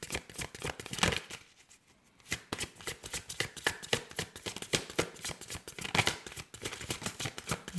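Energy release oracle cards being shuffled by hand, a dense run of quick, close riffling flutters that pause briefly before starting again, with no talking.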